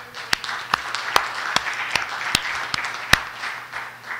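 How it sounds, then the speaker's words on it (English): An audience applauds during a legislative session, a short, moderately loud round of scattered claps with a few sharp, distinct slaps standing out. "So please join me in giving them a big round of applause."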